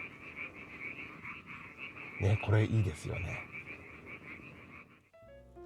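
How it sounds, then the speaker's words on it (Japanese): Frogs croak in a chorus near a field location, with the wind noise reduced, while a person speaks briefly over the calls. "カエルたちの鳴き声がしっかりと聞こえてきました"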